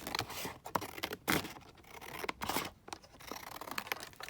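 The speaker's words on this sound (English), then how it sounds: "just going to then cut it up here like this." Scissors snip through a printed vintage picture for a collage frame, a handful of crisp cuts with short pauses between them, close and fairly loud, no voices.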